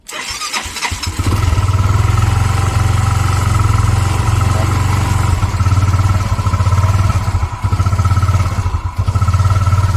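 A cold Yamaha Mio 125 scooter, with engine oil mixed into its radiator coolant and a freshly cleaned and retuned carburetor, cranks and fires, then runs at a loud, steady, throbbing fast idle close by, with slight dips and rises in pace.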